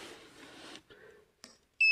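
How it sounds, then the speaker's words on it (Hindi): A multimeter in continuity mode beeps as its probes touch a low-value resistor of the kind used as a fuse in a mobile charger circuit, ending in a short, loud, steady tone after softer handling noises. "कुछ रजिस्टर ऐसे होते हैं जो आपको कंटिन्यूटी बीप दे सकते हैं कंटिन्यूटी मोड पे"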